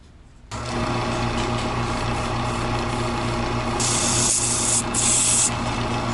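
Red spray paint hitting the edge of a necklace pendant: after a short quiet start, a loud, steady hiss runs continuously to the end, brightening near the close.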